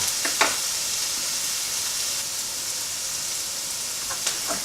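A pot of biryani ingredients sizzles loudly and steadily at close range, a continuous bright hiss with a few faint clinks near the start and end.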